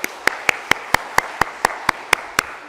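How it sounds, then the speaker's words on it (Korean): A church congregation at Sunday worship claps in encouragement for the choir, with crisp, evenly spaced claps in a quick steady rhythm, close and fairly loud. "우리 시온 찬양대를 위해서 격려 박수 올리겠습니다."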